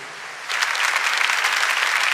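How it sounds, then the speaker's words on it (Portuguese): Applause breaks out in a church congregation after a Gospel reading, starting abruptly after a quiet moment and continuing as dense, steady clapping from many hands. "Vamos aplaudir a palavra de Deus."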